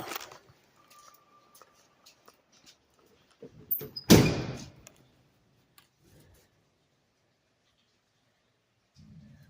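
A car door, rehung after its sagging hinges were adjusted, shuts with one firm thud midway, preceded by light clicks and handling noises in an otherwise quiet space.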